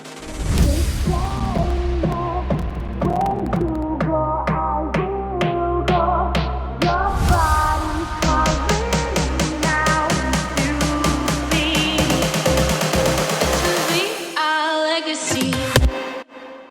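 A full EDM build-up from a remix: drop chords over steady reverb kicks that quicken into a dense snare roll and fill, with an impact hit and a brief gap before the drop; loud and continuous, no voices.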